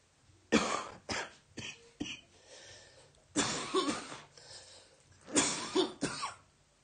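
A person coughs in a series of harsh, close bursts, some clustered in quick pairs and others spaced apart, with breathy throat-clearing between them and no talk.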